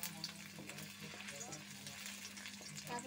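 Paneer fries in a pan with a steady, close sizzle and light stirring scrapes, while a person speaks over the cooking.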